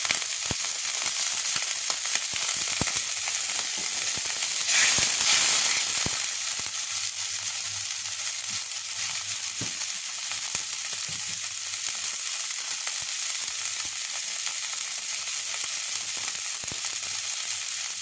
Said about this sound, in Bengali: এবার একটু পানি দিয়ে দেবো মশলা কষাতে হবে এখন এর ভিতরে বাটা মশলা দিয়ে দেবো আদা রসুন ধনে জিরা পেঁয়াজ সব কিছু মিলিয়ে দিয়ে দিতে হবে